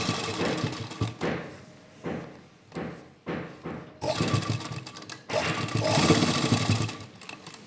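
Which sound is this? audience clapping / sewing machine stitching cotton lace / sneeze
sewing machine stitching cotton lace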